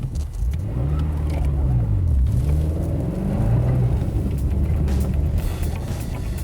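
A 625 PS BMW X5 M / X6 M SUV pulls away on split ice and asphalt, its engine rumbling and rising in pitch through several gear-like sweeps, heard close with a low, steady drone and no talk.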